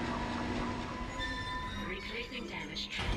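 A tram car in the video game Dead Space rumbling steadily on its rails with thin metallic squeals rising late, heard close and continuous throughout.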